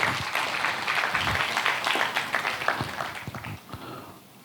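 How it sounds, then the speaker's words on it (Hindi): A church congregation claps to welcome newcomers, a steady patter of many hands that rises, then thins and fades toward the end. "तालियों के साथ उनका स्वागत करें"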